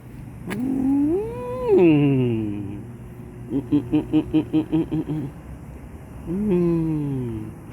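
A cat meows loudly up close: a long, rising and falling meow, a quick run of short repeated calls, then another drawn-out meow near the end.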